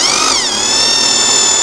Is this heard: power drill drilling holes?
yes